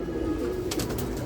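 Pigeons coo in a low, steady murmur at close range, with faint rustling and no voices.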